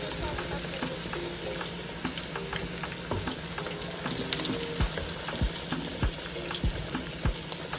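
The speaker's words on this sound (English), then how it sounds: "I will just fry those." Meatballs for a Guinean-style meatball stew frying in hot oil, a steady close crackling sizzle with scattered pops and occasional scraping or stirring knocks, no talking.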